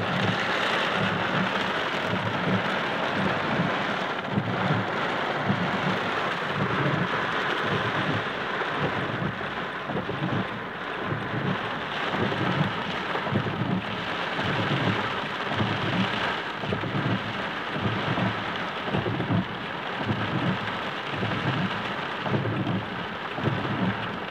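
Heavy rain pours steadily throughout, with a wide, continuous wash of noise and occasional rumbling from a moderate thunderstorm in Livron, Drôme, France, recorded on 1 October 2019.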